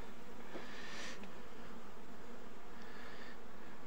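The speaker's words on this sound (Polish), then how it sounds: "Dzisiaj jest oblot młodej pszczoły." Young honeybees buzzing around a hive on their orientation flight, a faint, continuous outdoor drone with occasional louder passes of nearby bees and no talk.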